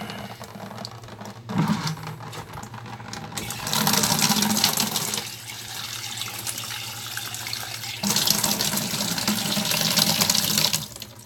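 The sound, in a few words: tap water filling a bucket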